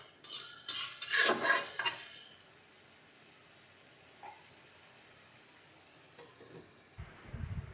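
A metal spoon clatters and scrapes around a pot of pangas fish curry in a few quick bursts, then falls quiet with only faint kitchen sounds and a soft knock near the end.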